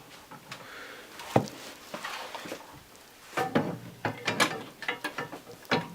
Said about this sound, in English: we actually put some additional adapters into the machine, which will be connected on both sides